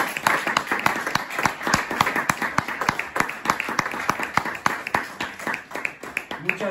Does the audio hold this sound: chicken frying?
no